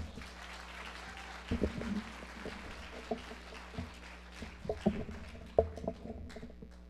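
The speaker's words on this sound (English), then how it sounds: "One more round of applause for Kathy." Audience applause for a speaker at a TEDx UC Davis salon event, a steady low patter of clapping with a few louder close claps standing out, fairly faint overall.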